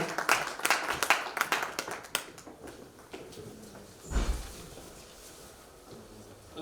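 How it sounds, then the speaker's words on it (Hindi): An audience at an astrology conference welcomes a speaker with clapping, a few sharp claps at first that thin out after a couple of seconds into quiet room noise. "जोरदार तालियों से स्वागत किया जाए चंद्रशेखर जी का"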